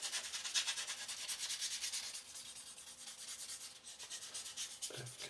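A polishing stick rubs steadily over a small plastic part from a 1/32 Trumpeter Swordfish model kit, giving a close, quiet, repetitive scratchy swishing with a brief pause near the end.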